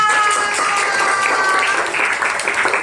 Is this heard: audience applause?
yes